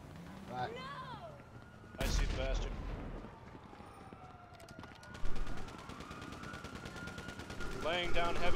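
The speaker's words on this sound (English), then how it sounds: "Laying down heavy fire support." Heavy automatic gunfire and blasts in Grand Theft Auto V, with bursts of shots, a sharp loud crack near the two-second mark and another burst later, while voices talk over the sustained firing.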